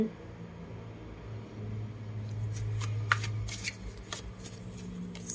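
Tarot cards are shuffled and laid out in quick papery riffles, then a series of sharp snaps and slaps as cards land one after another, close and fairly quiet, with no talking.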